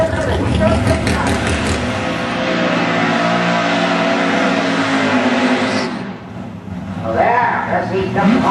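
Mustang drag cars in a Wild Street final round at a dragway roar with loud engine noise, with a dip near the end before the engines surge again, under a busy crowd and commentary.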